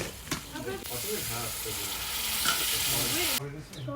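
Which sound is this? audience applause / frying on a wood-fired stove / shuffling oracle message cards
frying on a wood-fired stove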